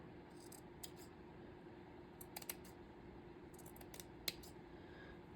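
Scissors trim hair in short quiet bursts of snipping, a few quick cuts clustered together at intervals over a faint steady background hum, with no talking.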